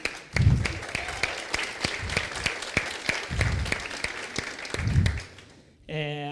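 Audience applause at a TEDx talk in Brazil, a steady wash of many hands clapping for several seconds, loud and close, fading near the end as a voice briefly returns.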